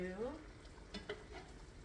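Garlic corn chicken sizzles and is stirred in a pan, a faint frying hiss broken by a few brief scrapes, with no talking.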